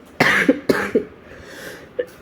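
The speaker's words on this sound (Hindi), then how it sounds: "खांसी हो गई है ना" Two harsh, close coughs in quick succession, each with a short tail, followed by a fainter throat sound near the end.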